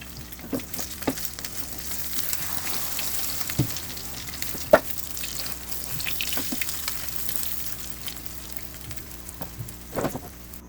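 Eggs frying in a pan on a home stove give off a steady crackling sizzle with scattered sharp pops and spatters, close and moderately loud throughout, with no voices.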